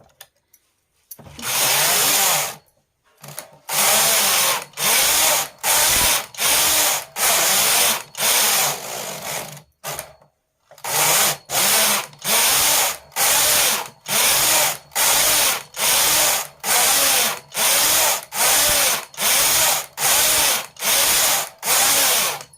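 A knitting machine runs white stitches for a baby frock, its carriage sweeping back and forth in a regular series of loud, even whooshing passes, about two each second after a short pause near the start and another in the middle.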